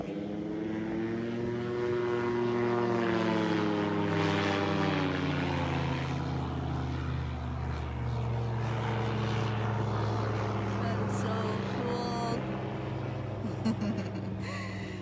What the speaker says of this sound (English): sounds like another plane, maybe?